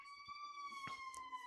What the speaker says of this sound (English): Sorry if you could hear the ambulances right behind me.